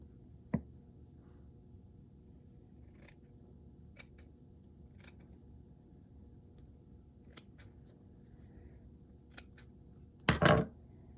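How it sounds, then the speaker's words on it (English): Scissors snipping a strip of fabric from a sock for a snowman craft, a handful of sparse, crisp clicks spread across a quiet stretch, with a louder cluster of cuts near the end. "You could cut a little strip"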